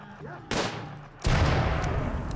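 Gunfire in the colony game RimWorld during a raid of mad Boomalopes: two bursts of rapid, dense shots, the second louder and sustained, close and continuous.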